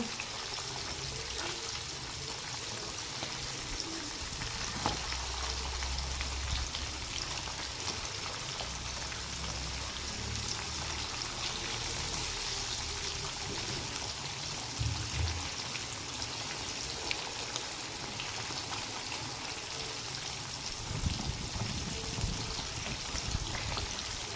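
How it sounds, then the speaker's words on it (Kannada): Rava-coated fish frying in a pan, a steady crackling hiss like rain that carries on for the whole stretch at moderate loudness, with no talk over it. "ಒಂದು ಸೈಡು ಫ್ರೈ ಆದ ನಂತರ ಇನ್ನೊಂದು ಸೈಡಿಗೆ ತಿರುಗಿಸಿ ಹಾಕುವ"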